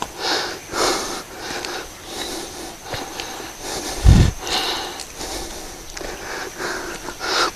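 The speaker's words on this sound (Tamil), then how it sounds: "கொஞ்சம் மூச்சு வாங்குது." Heavy, rhythmic breathing with repeated sniffing and puffing breaths after climbing steep steps up a hillside toward a temple, close and loud, with one sharp thump partway through.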